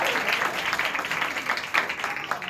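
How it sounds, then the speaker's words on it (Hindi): An audience claps for children after a Christmas dance performance, a moderate, uneven patter with a few sharper claps, heard at middle distance. "क्यों ना हम लोग फिर से इनके लिए तालियां बजाएं"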